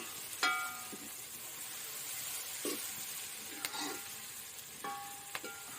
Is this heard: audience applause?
no